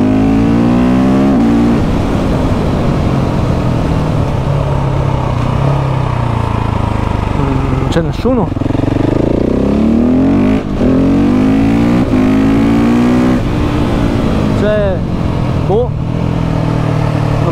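KTM 690 SMC R supermoto single-cylinder motorcycle revving loudly on a mountain road at Valvestino, engine pitch rising and falling through gear changes, with a rider talking over it throughout.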